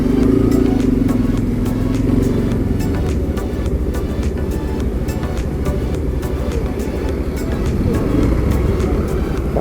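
A 2026 Yamaha FZ15 motorcycle engine runs close by with a steady rumbling idle and a slight rise in revs, overlaid by clattering and a voice talking.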